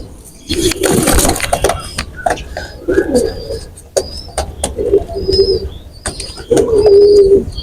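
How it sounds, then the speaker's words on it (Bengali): Two pigeons coo in repeated soft, throaty bursts after being let loose, close by, with wing flutters and a voice talking in between. "কবুতর দুটি ছেড়ে দেখাচ্ছি"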